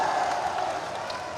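Steady applause and crowd noise at an outdoor political election rally in Odisha, a continuous wash of clapping heard at moderate distance with no distinct individual claps standing out.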